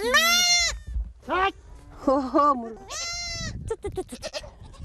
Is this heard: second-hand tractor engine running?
no